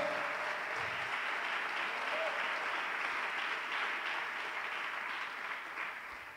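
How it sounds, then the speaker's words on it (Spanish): A church congregation claps together during a worship service, a dense, sustained round of applause that holds steady and then tapers slightly near the end, with no clear voices over it. "Dale palmas a Él en esta hora"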